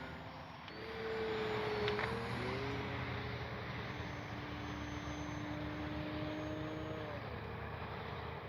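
An E-flite Cherokee RC airplane passes at about a third of its throttle, a steady propeller drone whose pitch rises and then falls as it goes by at a moderate distance.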